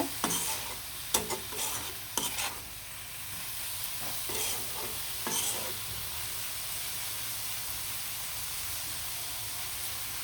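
Red amaranth greens frying with onion and garlic in a pan, with a steady close sizzle under repeated sharp scraping strokes of a stirring spoon early on, then a continuous even hiss.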